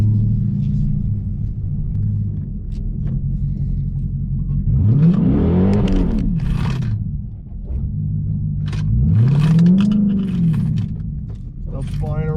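A car with a new 3.90 posi rear axle, set to sport mode with traction control off, rumbles near at idle and then revs hard twice in rising and falling sweeps, with loose items rattling inside the cabin.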